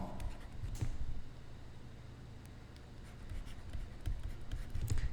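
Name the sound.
writing math on a board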